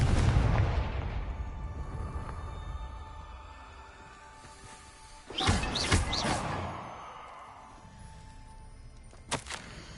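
A Confringo blasting spell bursts in the Hogwarts Legacy video game, a loud boom with crackling debris at mid-clip, followed by a shorter sharp blast near the end over a low ambient game backdrop.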